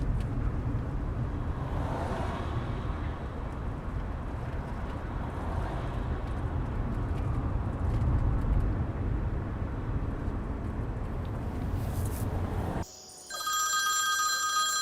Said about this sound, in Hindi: नाजली का फोन है।